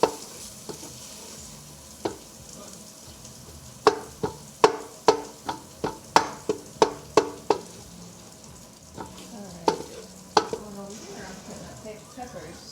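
Peppers frying in a pan are stirred with a utensil, giving a run of sharp scraping clacks against the pan over a soft sizzle, spaced irregularly and close by.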